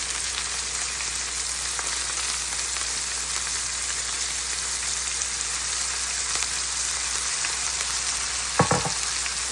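Soaked chana dal frying in hot oil, a steady, dense crackling sizzle that holds evenly throughout, with one brief clatter near the end and no voices.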